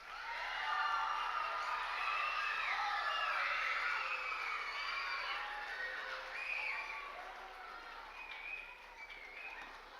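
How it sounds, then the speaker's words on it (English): At an entrepreneurship program showcase, an audience gives a lively wash of applause mixed with cheers and excited voices. The sound stays dense and even before easing slightly toward the end. "Let's give them a big round of applause."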